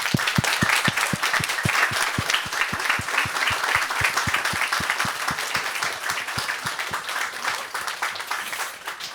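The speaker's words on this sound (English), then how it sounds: "can you please give a great big round of applause for Evanna Lynch?" Live audience at Cheltenham Literature Festival applauding for Evanna Lynch, with dense sustained clapping and sharp individual claps standing out, loud and steady throughout before tapering slightly.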